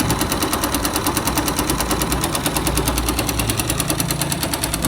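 A 2005 Yamaha YBR 125 motorcycle engine with a strongly leaking gasket runs close by, giving a fast, steady mechanical rattle and knock that stays continuous and loud, with no voices.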